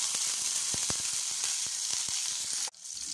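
Green chillies and curry leaves hit hot oil that already holds popped mustard seeds, making a loud continuous sizzle with sharp spattering crackles. It cuts off abruptly near the end.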